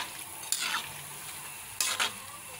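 Cheese butchi frying in a pan gives a steady, close sizzle, with two brief louder bursts of stirring and bubbling spattering over it. No voices.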